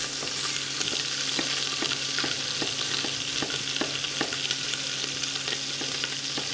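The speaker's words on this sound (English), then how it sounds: "You can hear it spitting and popping." Pork belly spits and pops in a frying pan, a continuous loud sizzle peppered with frequent sharp crackles and pops, close and alone with no voices.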